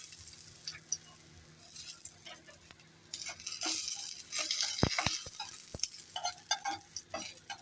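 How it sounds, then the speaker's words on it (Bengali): Neem leaves and handmade lentil dumplings fry in hot oil in a pan, a soft sizzle broken by scraping stirs and a few sharp utensil clinks against the pan. "নিম পাতাটা একটু ভাজা ভাজা হয়ে গেল।"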